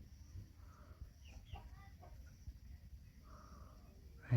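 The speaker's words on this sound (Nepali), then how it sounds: "कुखुरा" Chickens cluck softly in the background of a rural Nepali farmyard, a few short, scattered calls over steady low outdoor rumble, with a brief louder thump at the very end.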